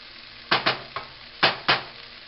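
Meat stir-fried in a hot pan, sizzling steadily while five sharp scrapes and tosses of the utensil strike in quick, uneven succession, close and clear with no talking.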